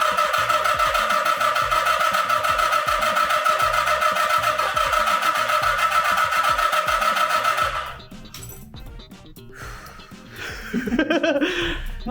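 A long-neglected vintage Japanese car engine cranks with a steady, rapid, rhythmic churning for about eight seconds, then cuts off. Scattered clattering and faint voices follow.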